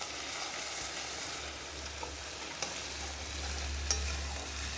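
Raw tomato and ginger-garlic paste fry in a pan, giving a faint, even sizzle over a low background hum. A few light clicks come from the stirring spoon, with no voices.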